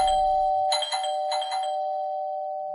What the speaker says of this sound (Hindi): तभी घर की डोरबेल बजी।